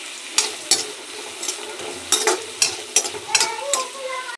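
Onions with a pinch of turmeric sautéing in a pan for sambar, a soft steady sizzle broken by repeated scraping stirs of a spoon, close by and with no talking.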